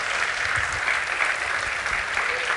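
A church congregation breaks into sustained applause, a dense, steady wash of clapping filling the room at even loudness for a few seconds with no voices standing out.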